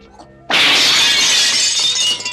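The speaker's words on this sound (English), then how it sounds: "he drives his knife hand through the glass showcase just before going into the room of mirrors" A knife hand smashes through a glass showcase in a martial arts film fight scene: after a quiet moment, a sudden loud shatter of breaking glass bursts out and sprays on for nearly two seconds.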